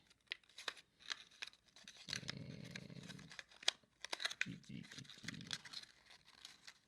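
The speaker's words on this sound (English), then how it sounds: "Nothing like folding and gluing on camera." Paper for a Star Wars Popfold Stormtrooper is folded, pressed and glued, with soft crinkles, rustles and taps close by and a brief, rougher rubbing stretch in the middle.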